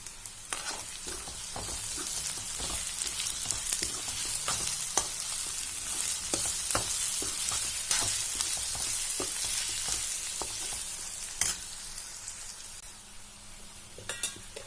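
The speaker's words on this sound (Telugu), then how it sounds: "కారం తగినంత, సాల్ట్ తగినంత వేసుకుని బాగా వేయించుకోవాలి" Curry sizzling and frying in a pan with garam masala, chilli and salt, a continuous bright crackle broken by scraping stirs and occasional utensil clinks, close and fairly loud.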